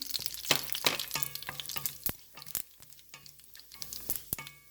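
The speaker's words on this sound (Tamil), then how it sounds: "அடுத்தது இப்போ எண்ணெய் நல்லா சுட்டுருக்கு நாங்கள் எண்ணெய்க்குள்ளே கடுகு போட போகிறோம் பெருஞ்சீரகம்" Mustard seeds and fennel seeds frying in hot oil in a pan, with sharp scattered pops and crackles over a faint steady sizzle, fairly close and moderately loud, no talking.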